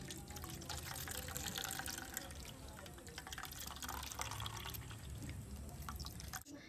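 Jackfruit liquid, wrung out for jaggery, drips and trickles through a straining cloth, a faint, continuous watery patter with a soft hiss throughout.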